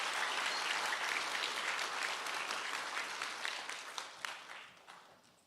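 An audience at an Institute of Technology graduation and pinning ceremony gives a round of applause, heard at a moderate distance. It is a steady wash of many hands that gradually tapers and fades out.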